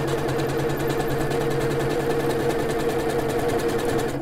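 A sewing machine runs a tight zigzag stitch across a pants seam, converting them into capris, with a steady, continuous motor whir and rapid needle chatter throughout, close and fairly loud, with no pauses.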